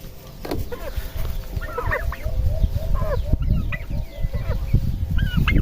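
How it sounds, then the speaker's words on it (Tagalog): Backyard pet chickens clucking nearby, repeated short clucks and murmurs from several birds over a busy, rustling background. "ito yung ating mga alagang manok"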